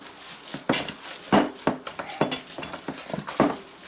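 A hand mixes meatloaf mixture with eggs and breadcrumbs, making a string of wet, squelching, rhythmic pushes and slaps. The sounds are close and moderately loud, with no talking.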